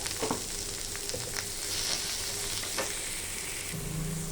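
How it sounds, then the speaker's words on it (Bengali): Peanuts fry in a pan for parwal bharta, a dense, constant close sizzle with occasional stirring scrapes and taps, heard alone without talking. "কিছু চিনে বাদাম, দিয়ে একটু লাল লাল করে ভাজবো।"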